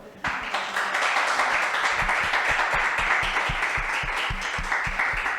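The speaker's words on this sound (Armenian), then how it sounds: "մեկ հատ շնորհավորենք իրենց մեկ ծափարությամբ" A church congregation applauding together, a steady wash of many hands clapping with a few louder, rhythmic claps standing out, sustained for several seconds with no voices.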